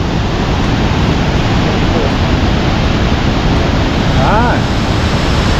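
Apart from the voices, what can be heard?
rushing water of a river on the Kanchenjunga trek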